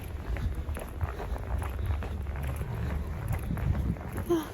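Strong wind roars through a heavy snowstorm in Edmonton, a steady, loud rush with low rumbling gusts buffeting close to the microphone and no talking.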